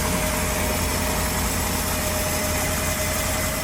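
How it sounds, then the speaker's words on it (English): A boat's port inboard engine runs steadily at idle with a smooth, even drone and constant vibration, close and loud, during a raw water pump inspection, with no voices over it. "port engine is up and going and running smooth as can be"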